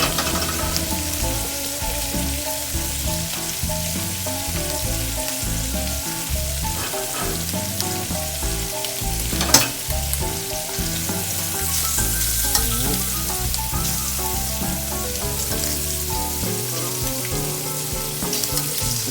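Shrimp sizzle steadily as they sauté in a hot pan, a continuous crackling fry close by, with a brief clack of a utensil midway and no speech.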